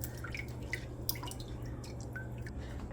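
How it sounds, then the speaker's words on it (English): Water dripping and trickling while codfish is rinsed, with small scattered drip splashes over a low steady background hum, fairly quiet and close. "And you want to rinse it again."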